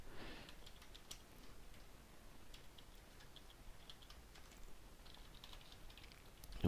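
Quiet computer keyboard typing, a string of soft, scattered key clicks at a steady low level with faint room background and no talking.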